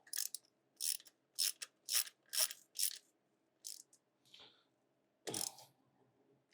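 A ratchet tightens a loose nut on an electric dirt bike build, a series of crisp close clicking bursts in a steady rhythm, then a pause, a few softer clicks and one last louder ratcheting stroke.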